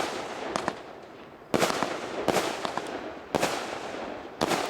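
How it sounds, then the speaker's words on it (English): A 12-shot Moody Blue firework cake goes off in sharp, booming bursts at irregular intervals of roughly a second, each report followed by a crackling tail, with no talking. "Now 12's Moody Blue. It's a 12 shot cake."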